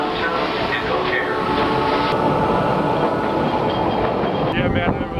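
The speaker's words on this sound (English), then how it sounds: "This is a Blue Line train to downtown and O'Hare." A Chicago Blue Line train bound for downtown and O'Hare passes close by during a 2011 blizzard, giving off a loud, continuous rumble and metallic rail clatter that fills the whole stretch.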